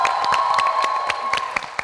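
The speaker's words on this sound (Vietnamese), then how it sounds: "Một tràng pháo tay to dành cho Hà Anh cùng với danh hài Hoài Linh" Audience at a Vietnamese comedy show applauding performers, with brisk, close clapping and cheering over a steady hum, tapering slightly near the end.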